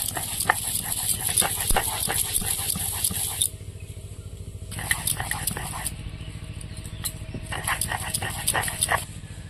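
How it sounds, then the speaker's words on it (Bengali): Kohlrabi leaves, still warm, ground into a paste by hand on a stone beside a village clay stove, making steady rhythmic scraping and pounding strokes up close, which pause briefly and then resume. "উনুনের পাশে বসে গরম গরম ওলকপির পাতা বাটছি"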